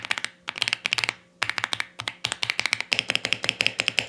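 Brisk typing on a budget mechanical keyboard bought for about $65, a steady run of sharp, close clacky keystrokes in quick bursts with short pauses, clearly audible with no talking.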